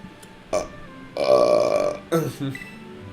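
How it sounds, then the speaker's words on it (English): Close, loud burps from a person, several short and drawn-out belches in a row with voiced, croaking tone, heard up close with little else around them. "I'm sorry for hearing me kind of constant burping out of nowhere."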